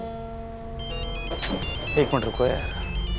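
A melodic phone ringtone plays at moderate volume while someone speaks briefly over it.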